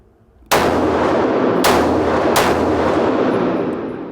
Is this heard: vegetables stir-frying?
no